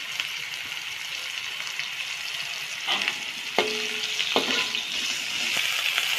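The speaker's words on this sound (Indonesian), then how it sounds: "Kita aduk-aduk lagi." Spice paste and washed dried shrimp stir-frying in a pan for a genjer vegetable dish, a constant bright sizzle broken by a few scraping and clanking stirs of the spatula.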